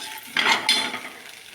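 Coriander seeds, cumin and dried chillies dry roast in a pan, with two quick scraping stirs of a spatula against the metal over a soft, dry crackle, close by and brief.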